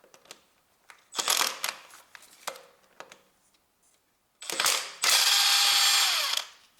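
A ratchet loosens a ground bolt on a Toyota Prius 1.5 engine from the 2002 to 2009 model years, giving sharp clicking bursts that end in a long, fast ratcheting spin, close and clear with no talk.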